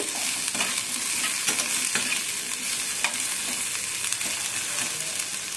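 Hog plums (amra) stirred in a hot pan for a fish-roe chutney, a steady sizzling fry with repeated scraping strokes of a spoon against the pan, close and continuous throughout.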